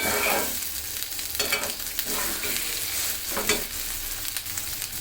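Dried ribbonfish (churi shutki) frying in a pan, a dense continuous sizzle with intermittent stirring swells, close and steady, no talking.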